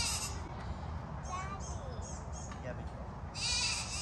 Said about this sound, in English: this is a huge risk by picking up a goat wearing them, but look how cute me and Ivory match with this outfit